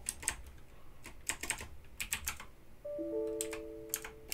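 Computer keyboard keys typed in short bursts of rapid clicks, close and clear, with a steady tonal hum entering partway through.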